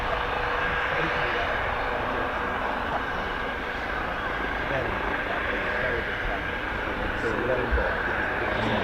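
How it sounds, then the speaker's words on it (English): A Juno training helicopter from RAF Shawbury flying overhead, a continuous rotor and engine drone at moderate distance, with people chatting throughout. "It's a Juno helicopter."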